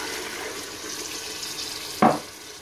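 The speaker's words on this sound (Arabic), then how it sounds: "دابا غادي نديرو القياس ديال الماء من بعد ما تشحرات لنا البصله والزيت" Water is poured into a hot pot of fried onions and oil for a beef and potato tagine: a soft, steady rushing pour, then a sudden close splash and hiss that quickly fades.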